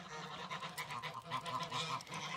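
Several farm geese honk repeatedly and overlap in a noisy chorus, fairly close, with no voices present.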